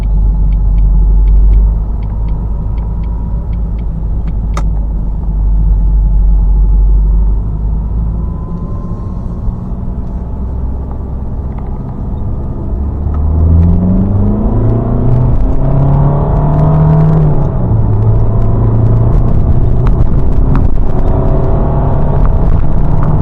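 A Jaguar X-Type 2.2 diesel with nearly 140,000 miles on the clock drives along, its engine a steady loud rumble from inside the cabin, rising through the gears as it pulls away and accelerates.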